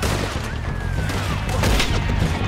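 Gunfire in the Red Dead Redemption 2 video game comes as a dense, booming burst of several shots close together, loud and close, with no talking over it.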